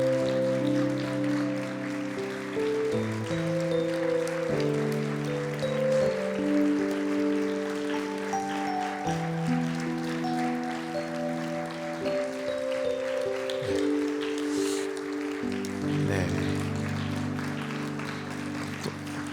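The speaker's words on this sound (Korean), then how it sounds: "우리 부장단 집사님 나오실 때 우리 환영의 박수 따뜻하게 하겠습니다" Audience applause welcoming deacons at a Korean church young adults' Sunday worship service: steady clapping throughout, mixed with sustained keyboard chords that shift underneath.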